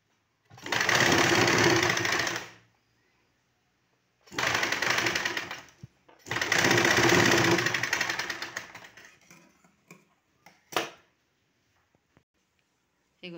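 A sewing machine stitches a blouse sleeve in three steady runs of fast, whirring needle chatter, close and loud, separated by brief pauses and followed by a short final burst.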